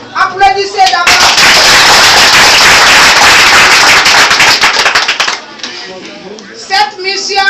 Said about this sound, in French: Applaudissez d'abord.